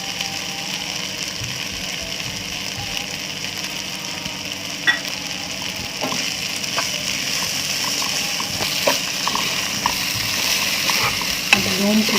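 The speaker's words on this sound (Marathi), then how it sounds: "तांदूळ घालतरी लाईट करून मिक्स करून घ्यायचे." Rice stirred and mixed as it fries in a pan for a sattvic vegetable pulao, a steady close sizzle with scattered spoon scrapes and clicks, no talking.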